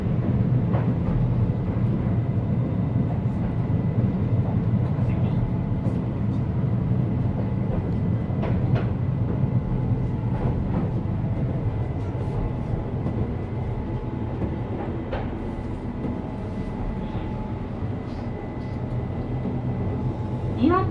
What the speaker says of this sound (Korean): 자동차와 함께 전철, 전동열차가 달리고 있습니다.